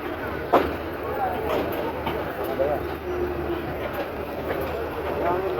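Two trains pull out of Brahmanbaria railway station, a steady rumbling rattle of rail cars rolling continuously with a sharp knock near the start, under a crowd's murmur and people talking nearby.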